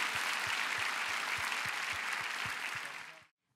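A church congregation at the Daniel Prayer Meeting claps in a steady, full round of applause that ends abruptly after about three seconds.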